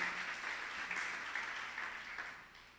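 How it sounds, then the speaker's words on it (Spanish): Applause from a congregation during a church service, steady dense clapping from many people that fades slightly toward the end, with no talk over it. "Alguien tiene que darle un aplauso fuerte al Señor en esta hora."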